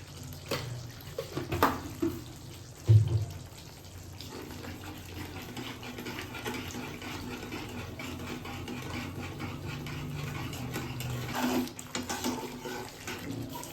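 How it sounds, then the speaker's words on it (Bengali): Water runs from a tap while making dahi pona, a faint steady running flow close by with a few soft knocks and clatters near the start and no talking. "এবার আমি জল দিয়ে দেবো।"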